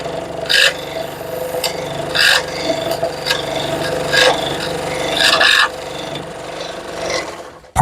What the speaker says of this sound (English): I like to use a scroll saw versus a bandsaw on something like this is I get a cleaner cut